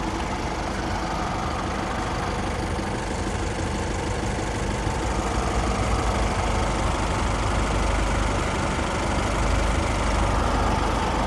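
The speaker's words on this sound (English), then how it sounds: "Now the engine's nice and quiet, very clean." A vehicle engine idles in Thailand with a steady, loud, even rumble that holds unchanged throughout, with no talking.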